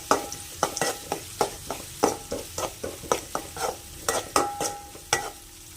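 Onions sizzle steadily in hot oil in a pan while a spoon scrapes and stirs in regular, repeated strokes, close up with no voices.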